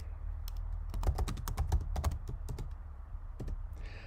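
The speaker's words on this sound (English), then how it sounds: "I'm just typing in notes" Rapid clicking of keys on a computer keyboard, an uneven burst of taps close up over a low background hum.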